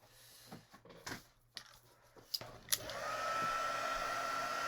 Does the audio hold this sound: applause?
no